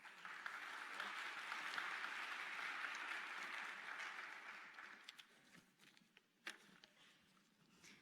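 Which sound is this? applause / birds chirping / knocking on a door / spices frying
applause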